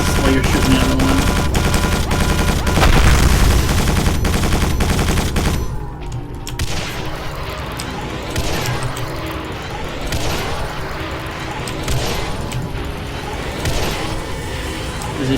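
Rapid bursts of gunfire from the video game Quake 4, loud and dense at first, then settling into steadier repeated shots with echoing impacts and mechanical clatter over game ambience.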